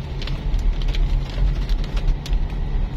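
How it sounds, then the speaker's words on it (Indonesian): Steady rain falling on a village bordering Manado after flooding, a dense close hiss of drops with a low rumble of passing traffic underneath and no voices. "Sekali lagi masih hujan teman-teman ya."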